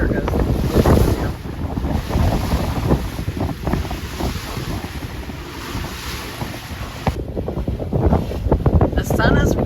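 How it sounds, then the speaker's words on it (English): Strong 20 to 25 knot wind buffeting a trawler at sea near the Houston ship channel, a loud continuous roar of gusting wind and water with microphone buffeting throughout. "Just a little snotty out there. 26 knots to 30, so 36 knots, so 20 to 25 knot winds."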